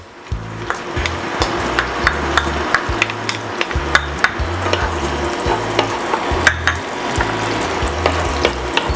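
Garlic frying in oil in a pan: a steady bright sizzle runs throughout, broken by sharp clicks and scrapes of a utensil stirring in an irregular rhythm, close and moderately loud with no talking.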